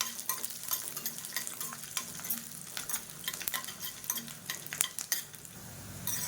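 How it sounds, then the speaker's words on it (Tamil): Garlic cloves and curry leaves fry in hot oil in a pan for a spicy kara chutney, giving a steady crackling sizzle with scattered sharper pops and spoon stirring close by. "பூண்டு நல்லா பொரிய ஆரம்பிச்சிருச்சு."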